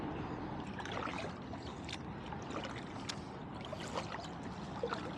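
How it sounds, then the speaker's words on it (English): A kayak paddles along a Brooklyn shoreline near Coney Island Creek, with soft, irregular splashes and trickles of paddle strokes over gentle ambient water noise, close and quiet. "So we're just paddling along the shoreline"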